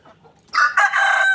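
Chicken rooster crowing loud and close, a long drawn-out call that starts suddenly after a quiet moment, with no voices.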